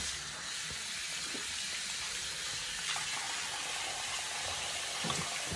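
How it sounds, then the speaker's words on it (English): Tap water running steadily into a sink as hands are rinsed, a soft continuous splashing hiss heard close and fairly quiet, with small irregular spatters throughout and no talking. "I'm going to rinse my hands off right quick, right?"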